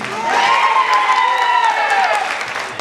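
Applause and cheering from a crowd at a school annual function, steady and loud throughout, with a tonal whistle-like sound sliding across the top of the clapping.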